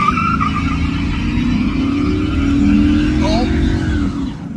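An abandoned $800 V8 BMW parts car with a slipping transmission does a burnout: a loud, steady engine roar holds throughout, swelling slightly near the end, with faint tire screech above it.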